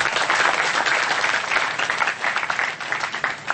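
Sustained audience applause fills a hall at a Kenduri Cinta gathering in September 2009, a dense, steady wash of many hands clapping at full strength for the whole stretch.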